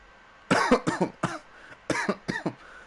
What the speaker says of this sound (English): that's my cough coming back from Sunday